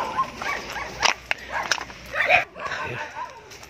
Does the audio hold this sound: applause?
no